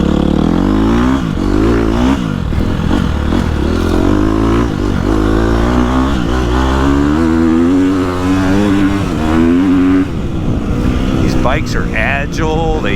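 A Gas Gas EX250F dirt bike engine pulls hard and steadily, its loud, close drone climbing in pitch as it is held through long gears with few shifts, while a rider talks over it.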